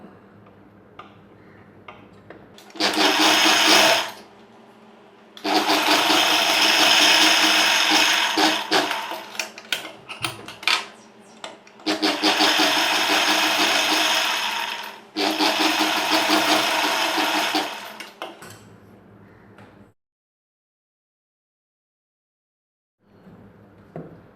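A sewing machine stitching lining onto a blouse piece runs in several loud bursts of fast whirring stitches, split by short pauses and one long stop near the end, with no talking.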